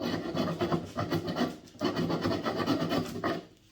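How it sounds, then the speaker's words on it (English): A wood rasp files steadily at a wooden birdcage part for a pie crust table, with close, rhythmic rough scraping strokes in quick succession that fade at the end. "just enough for this rasp to fit in there"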